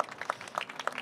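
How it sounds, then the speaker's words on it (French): Faint, patchy clapping from a conference audience at a panel on financing and supporting industrial startups, a brief scatter of hands rather than a full ovation. "on les applaudit très très fort"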